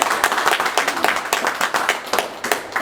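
Audience applause at a poetry performance, a smaller group clapping with distinct, individually audible hand claps in an uneven rhythm over about three seconds.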